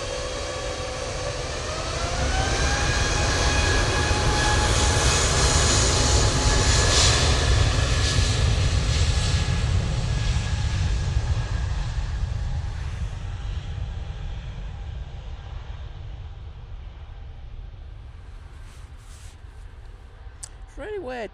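Airbus A320neo departing Manchester Airport for Zurich, a loud rising engine whine and roar that builds quickly, holds, then slowly fades into distant rumble.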